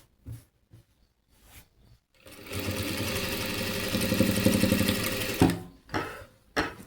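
A sewing machine runs in one continuous, loud, rapid burst of stitching on a work blouse, with a few taps and pauses before and after.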